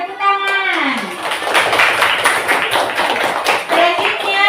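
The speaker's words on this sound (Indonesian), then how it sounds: "Tepuk tangan." Classroom full of students clapping their hands together after a group presentation, a dense burst of claps with voices mixed in, tapering off toward the end.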